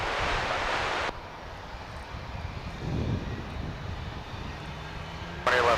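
An airliner takes off at Dallas/Fort Worth Airport, a broad engine roar that sits louder at the start and again at the very end, with a lower, steadier rumble in between.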